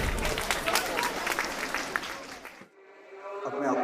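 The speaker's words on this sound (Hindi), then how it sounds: "तालियों की गड़गड़ाहट कम नहीं होनी चाहिए" Audience applauding at a Hindi-language gathering of teachers, a broad dense wash of clapping for about two and a half seconds, then a sudden drop to quieter room sound with faint tonal hum.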